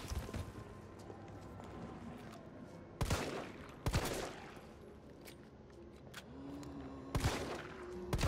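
Gunfire from the video game Resident Evil 3 Remake: several sharp, loud shots spaced through the stretch, over a steady bed of game ambience and effects, with no talk.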